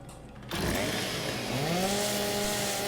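A video-game chainsaw weapon in Gears 5 abruptly roars to life and keeps buzzing loudly, its pitch rising and wavering as it revs.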